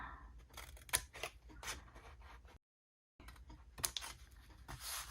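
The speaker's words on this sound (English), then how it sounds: "Then you're going to cut this part up here." Scissors cut paper in a series of close, crisp snips, in two bursts separated by a brief dead-silent gap.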